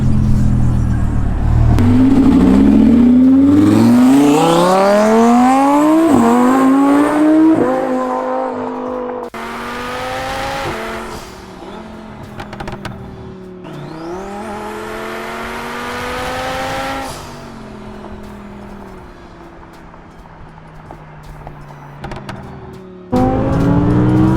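A twin-turbo Audi R8 accelerates hard onto a freeway, its engine revving up through the gears in rising sweeps with sharp shifts between them, then settling into a steady cruising drone before another burst of throttle at the end.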